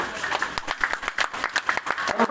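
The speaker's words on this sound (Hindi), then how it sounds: "और ताली की गड़गड़ाहट" A crowd claps at a school Independence Day parade, with quick bursts of applause pulsing unevenly throughout.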